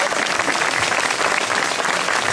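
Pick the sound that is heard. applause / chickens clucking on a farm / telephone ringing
applause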